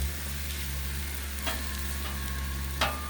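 Beef stir fry sizzles steadily on a Blackstone griddle, a dense continuous frying hiss with two brief scraping stirs of a spatula, loud and close.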